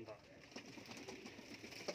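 Golden pigeons coo faintly at a bird sale, a soft murmuring call set against quiet background chatter and general ambient noise.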